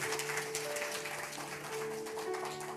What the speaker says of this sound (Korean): 우리 큰 박수로 격려해 주시고 환영해 주십시오